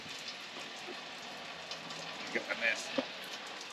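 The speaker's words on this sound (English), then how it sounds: "it wouldn't be normal if it didn't start raining on me." Steady rain falls outdoors as a soft, even hiss with occasional louder drops, and someone speaks briefly over it.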